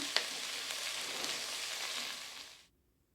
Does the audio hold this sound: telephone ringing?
no